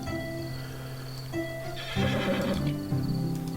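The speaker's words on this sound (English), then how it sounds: "Oh, a horse." A horse in the old-school CRPG Caves of Lore gives a loud, drawn-out whinny over a looping game soundtrack, with clip-clopping hooves mixed in.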